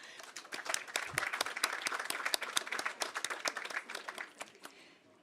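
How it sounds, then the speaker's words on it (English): Applause for a climate and land panel at a conference session, many hands clapping in a quick, crisp patter, moderately close and steady before gradually tapering off. "join me in giving a round of applause to this excellent panel"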